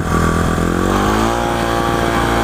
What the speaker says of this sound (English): Hear how the engine goes up? It makes a much louder noise.